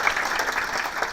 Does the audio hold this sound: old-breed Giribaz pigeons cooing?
no